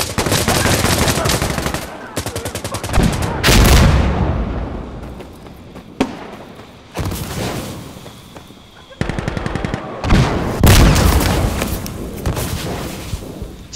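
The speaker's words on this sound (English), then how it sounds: "throwing a grenade!" Loud rapid automatic gunfire comes in repeated bursts with a heavy explosion-like boom, all from a tactical shooter match in Insurgency, with sharp cracks and brief pauses between volleys.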